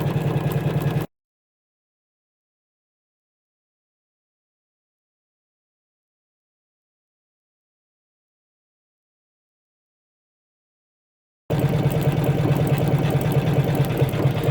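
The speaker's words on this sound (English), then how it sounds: "So it comes through and we start our satin stitching." An embroidery machine satin-stitches a towel on wash-away stabilizer, giving a steady, close mechanical whir. It is heard for about a second at the start, then there is a long stretch of total silence, and the whir returns for the last few seconds.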